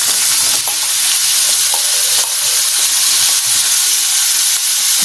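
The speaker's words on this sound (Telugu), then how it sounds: "పచ్చిమిరపకాయలు వేగుతున్నాయి కదండి" Green chillies and cucumber pieces fry in a pan for a cucumber roti pachadi, giving a loud, steady sizzle and hiss with faint stirring clinks, no voices.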